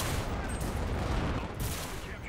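Dense gunfire in the World War II shooter game Enlisted during a D-Day beach invasion, with rapid overlapping shots and machine-gun bursts forming a continuous loud barrage throughout.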